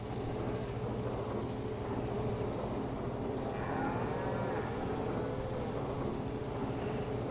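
Cows in Farming Simulator 25 give a low, drawn-out moo over a steady hum of farm ambience, moderately faint and alone.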